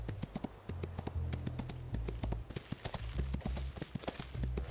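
Horse hooves clip-clopping at a steady walking rhythm while riding out in the Ostwind horse video game, close and clear, with soft low game ambience beneath and no talking.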